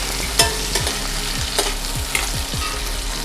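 Onions fry in oil with curry leaves, coriander and chillies for Madurai-style vadacurry, a steady close sizzle broken by rhythmic scraping stirs of a spoon against the pan about every half second.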